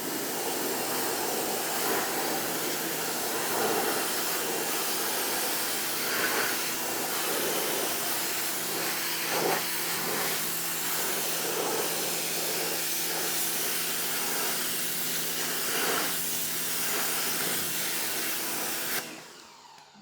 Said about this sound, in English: Let me first pressure wash away any contaminant from the surface